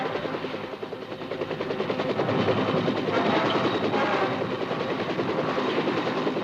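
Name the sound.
Huey gunship helicopters in flight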